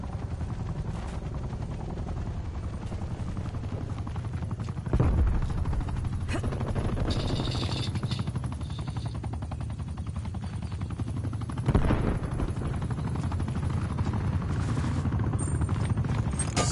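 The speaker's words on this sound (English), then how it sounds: "Hostile attack helicopter inbound." Call of Duty Cold War gameplay with an attack helicopter rumbling steadily overhead while bursts of gunfire and a couple of heavier booms break through, dense and continuous throughout.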